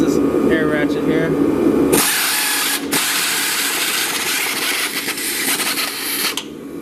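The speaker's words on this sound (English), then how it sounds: "Just this air ratchet here." An air ratchet whirs loudly up close while loosening stubborn nuts on a Chrysler Town & Country during transmission removal, running continuously after a brief stretch of someone talking.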